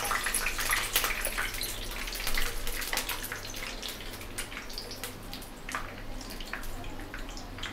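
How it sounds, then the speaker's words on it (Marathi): Water drips and trickles faintly from a wet hand while medu vada batter is shaped, a soft, close patter against a quiet kitchen background. "माझ्या हातीचा आहे बघा पाणी गळता"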